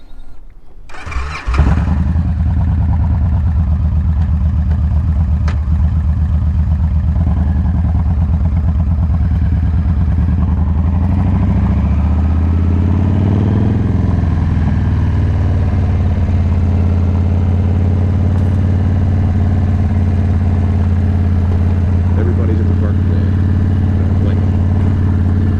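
A Victory motorcycle engine cranks and fires, then settles into a loud, steady, close rumble that swells briefly with a rev before holding an even drone.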